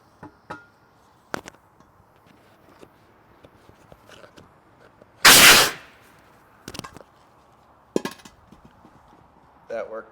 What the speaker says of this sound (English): we're going to go ahead and give it a bead blast out here and see if we can't get the bead to seat.